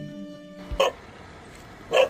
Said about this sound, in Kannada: ಅದ್ಯಾವುದೋ ನಾಯಿ ಬೊಗಳ್ತಾ ಇದೆ ನೋಡಿ.